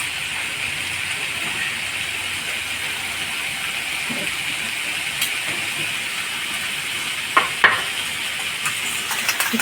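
Sour yogurt is whisked in a bowl, a steady close rasping churn with a few sharp knocks near the end.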